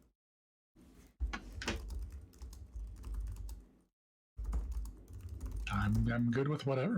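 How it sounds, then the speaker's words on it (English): Typing on a computer keyboard, close and clicky, comes in busy bursts with brief pauses, while people talk over it. "I typed the command in wrong, so we're not doing it."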